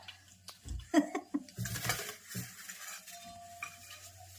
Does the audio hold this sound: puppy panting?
no